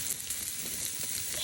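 Steaks searing on a U.S. Forest Service grill grate over a backcountry campfire, giving a steady, close crackling sizzle that runs unbroken for the whole moment with no talk.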